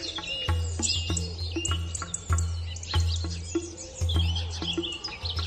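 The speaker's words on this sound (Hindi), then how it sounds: "अगली सुबह चिड़ियों की चहचहाहट से" Birds chirp in the morning, with quick bright tweets repeating over a steady low background pulse and no voices.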